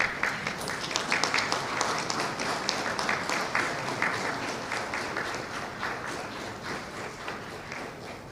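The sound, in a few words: audience applause for keynote speaker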